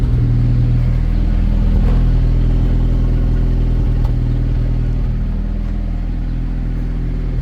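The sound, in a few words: Ford Ranger engine running with a sputtering misfire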